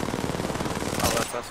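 Rapid automatic gunfire in Apex Legends crackles in a dense, continuous burst during a firefight, loud and close throughout.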